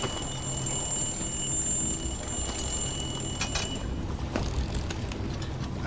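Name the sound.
alarm going off in Dishonored 2 video game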